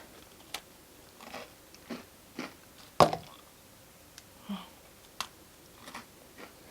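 Crisp bites and crunchy chewing on a Jeju green tea cookie, with about a dozen separate crackles spaced a beat apart, close to the mic and quiet, with no talking.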